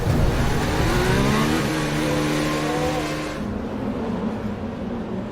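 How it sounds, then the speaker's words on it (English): Formula 1 cars on the formation lap at the Baku street circuit roar past in a dense layered engine drone, rising pitch as they accelerate, loud and close, then fading slightly as they move away. "So the cars begin their formation lap in Baku."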